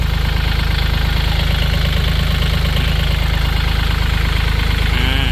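A Kubota L4018 SP tractor's diesel engine idles loudly and close by, a steady, even chugging rumble that holds unchanged throughout.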